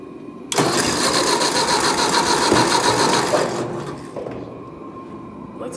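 A tractor engine cranks and catches with a sudden loud burst, running rough and steady for a few seconds before dropping back to a lower idle, heard close with no talk over it.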